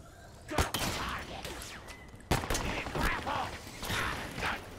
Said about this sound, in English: They got a plasma machine gun up there.